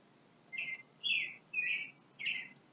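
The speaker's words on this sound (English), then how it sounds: "there's a chickadee" In a backyard, a chickadee sitting in a cherry tree gives four short, high chirping calls at an even pace, clear and fairly close against a quiet background.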